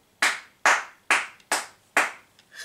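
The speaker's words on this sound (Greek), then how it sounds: "Χλιαρό χειροκρότημα." Five slow, evenly spaced claps ring out close by, each a sharp smack with a short decay, a sparse and unenthusiastic round of applause with no one speaking.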